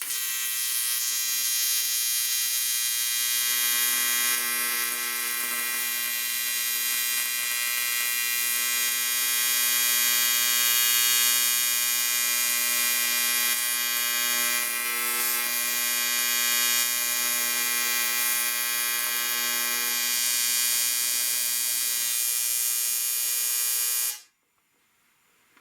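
A TIG welder arcs on cast aluminum, producing a loud steady buzzing hum with bright harmonics that holds for over twenty seconds and then cuts off abruptly.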